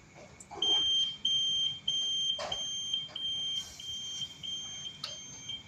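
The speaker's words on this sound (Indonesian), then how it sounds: "lampu LED dan buzzer alarm pada box microcontroller menyala" A buzzer alarm on the microcontroller box of an IoT fireworks firing system sounds a steady, piercing electronic tone that pulses in short repeated bursts for several seconds over a faint background hum, with occasional small clicks.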